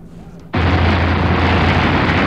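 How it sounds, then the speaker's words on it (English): A freight train loaded with petrol explodes inside a two-mile tunnel beneath the Pennines in northern England, a sudden deep blast erupting from quiet into a sustained, loud, roaring rumble that fills the rest of the clip. "A spectacular explosion and fire today in northern England."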